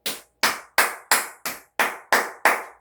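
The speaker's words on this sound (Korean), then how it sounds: "박수." Eight separate, evenly spaced sharp claps ring out one by one with a short echoing decay after each, loud and close with nothing else underneath.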